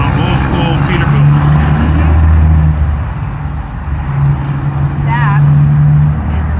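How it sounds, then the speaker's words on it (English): Old-school Peterbilt truck with wide open exhaust pipes rumbling past outside a taco shop, a deep, heavy low drone that swells and fades, with people talking over it. "Wide open pipes on an old school Peterbilt."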